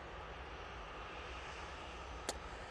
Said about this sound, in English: EasyJet now going out. This one is off to Madrid.